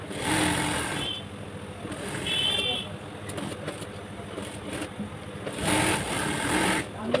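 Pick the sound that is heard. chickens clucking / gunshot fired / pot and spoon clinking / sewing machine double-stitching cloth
sewing machine double-stitching cloth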